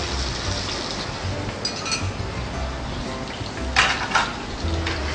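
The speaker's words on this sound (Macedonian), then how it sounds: "И сега прво ја пржиме печурката." Porcini mushroom frying in butter in a pan, a steady broadband sizzle with occasional clinks of a utensil against the pan, close and continuous with no voices.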